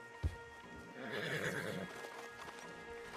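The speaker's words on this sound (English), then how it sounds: "Javier, you're gonna lead the stallions." A horse in Red Dead Redemption 2 whinnies with a rising, quavering neigh, preceded by a single hoof thud, moderately close amid faint background noise.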